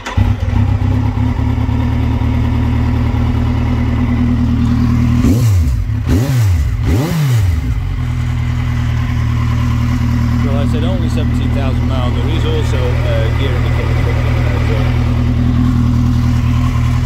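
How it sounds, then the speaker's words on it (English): A 2011 Kawasaki Z1000X motorcycle idles with a steady low engine drone, then blips its throttle in a few quick revs before settling back to a loud, constant idle close by. "So, we'll just get the bike started up."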